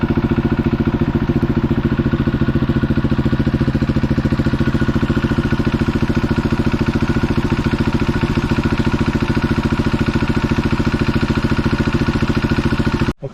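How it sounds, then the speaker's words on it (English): A motorcycle engine runs steadily at idle after an oil change, a loud, close, even thrum with faint clatter that carries on unbroken for over ten seconds before cutting off at the end. "I've just run the bike now for 5-10 minutes."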